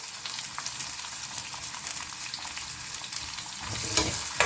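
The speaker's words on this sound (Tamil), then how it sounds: "இப்போ இந்த வெங்காயத்தை நல்லா டிரான்ஸ்பேரண்ட் ஆகிற வரைக்கும் நல்லா வதக்கிட்டே இருக்கணும்." Sliced onions and green chillies sizzle and fry in hot oil for a Tamil onion tamarind kuzhambu, with continuous close crackling and occasional stirring scrapes and no voices.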